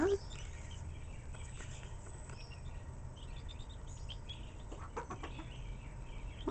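A mother hen gives faint, scattered clucks and soft calls over a steady low background, with brief bird chirps mixed in.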